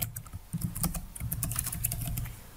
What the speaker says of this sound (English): Now let's type again. Let's type our password.